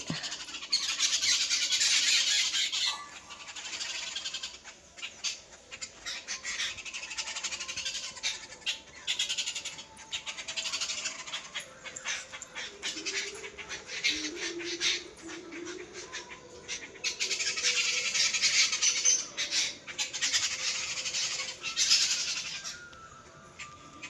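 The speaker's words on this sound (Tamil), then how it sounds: "காலையிலே இயற்கையாக குருவி சத்தங்க எப்படி கேட்குது பாருங்கள் அந்த மரத்தில் இருக்குது" Sparrows chirp and squawk busily in a tree on a morning in a village in Odisha, a steady dense chorus with louder bursts near the start and toward the end, with no talk.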